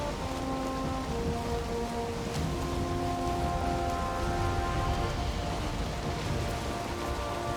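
Steady rain falls across the open ocean in Valheim, a constant dense hiss with soft ambient tones underneath, holding at an even level throughout with no voices.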